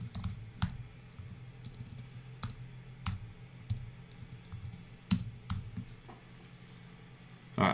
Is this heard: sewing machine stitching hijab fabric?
no